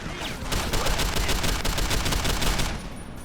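Rapid automatic gunfire in the video game Deus Ex, a dense continuous burst of shots lasting a few seconds, loud and close, ending abruptly.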